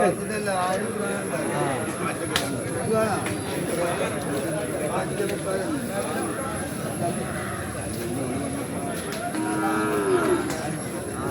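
Buffalo calves low now and then over steady crowd chatter and nearby voices, a busy livestock market scene with animals calling intermittently.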